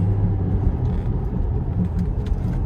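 Steady low road rumble and drone from inside a moving SUV with a rear-end noise, a constant droning hum with faint tire noise and no talking.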